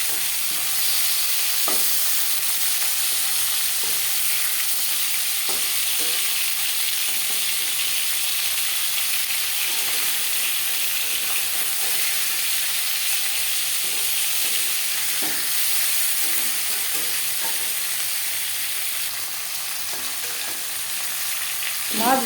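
Flipped pangas fish pieces keep frying in oil with a strong, unbroken sizzle, punctuated by occasional soft stirring or turning clicks, heard up close without speech.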